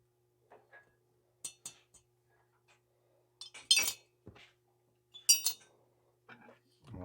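Metal cylinder bolts clink lightly in short scattered bursts as they drop into place on a Husqvarna 372XP chainsaw engine, sharp isolated taps with quiet gaps between them.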